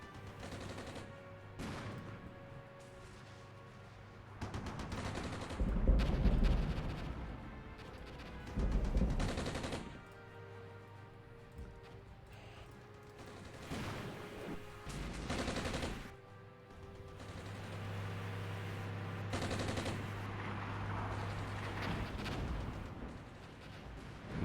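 Artillery rounds land in the tactical war game Armored Brigade as heavy booms and crashing impacts, some louder and closer than others, scattered irregularly over continuous rumbling battle noise.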